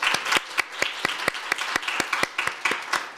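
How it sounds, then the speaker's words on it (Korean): A small audience at a youth speech contest in Korea claps, giving sharp, distinct hand claps in an uneven rhythm that come across as fairly close and moderately loud. The applause is sparse and carries no talk over it. "김유한 참가자의 연설을 박수로 들어보겠습니다."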